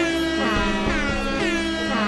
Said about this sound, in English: that Air Horn Sonata is... a favorite